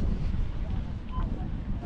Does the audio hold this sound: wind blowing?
yes